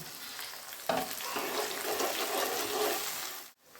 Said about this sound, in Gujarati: હવે આપણે આ લીલા મરચાં કટ કરેલા અને લીલી ડુંગળી એડ કરી બે મિનિટ માટે એને સાતરી લઈએ